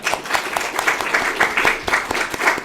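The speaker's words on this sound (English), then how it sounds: "And applause for the Unspoken Heroes." Audience applause, dense rhythmic clapping of a small crowd, close and fairly loud, continuing steadily throughout.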